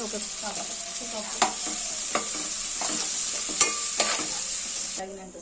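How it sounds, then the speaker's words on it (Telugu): Boiled chickpeas with lemon juice and sesame powder stirred in a hot pan, a bright continuous sizzle broken by repeated scraping clicks of a spoon, close and fairly loud before cutting off near the end. "నిమ్మరసం, కొద్దిగా నిమ్మరసం, ఒక నువ్వుల పౌడర్ వేసి బాగా కలుపుకోవాలి"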